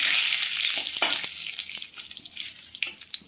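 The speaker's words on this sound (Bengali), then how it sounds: "একটুখানি এটা ভাজা হয়ে গেল।" Dry red chilli and a bay leaf frying in a small amount of oil, giving a steady close sizzle with light crackles and a few stirring scrapes, fading slightly toward the end with no talk.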